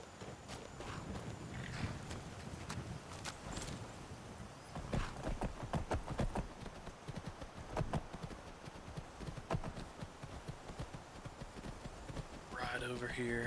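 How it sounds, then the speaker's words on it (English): Horse hooves clip-clop steadily at a gallop in the Skyrim video game, with an occasional neigh, loud and close amid a wide outdoor soundscape as someone talks over it. "Call our horse."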